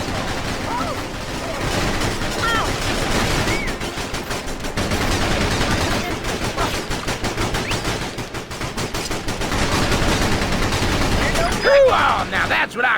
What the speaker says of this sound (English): now that's what I call a firefight